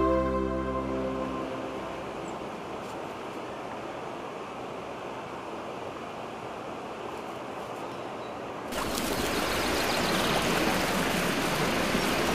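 A forest stream in the Majevica woods at Gornji Hrgovi babbles steadily in a broad, continuous wash of flowing water, louder and brighter after a cut partway through, with no talking.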